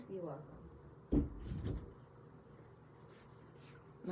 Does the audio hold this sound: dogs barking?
no